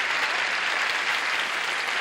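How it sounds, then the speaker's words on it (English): A television game-show studio audience applauds steadily, a dense, even wash of clapping that holds at full strength for the whole stretch with no voices over it. "I'm going to ask you to applaud one more time."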